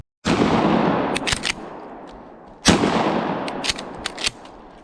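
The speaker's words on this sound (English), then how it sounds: "Using just the old 12 gauge Mossberg number 5 shot." Two loud 12 gauge Mossberg shotgun blasts loaded with number 5 shot, spaced about two seconds apart while hunting fox squirrel, each a sharp crack followed by a long rolling outdoor echo.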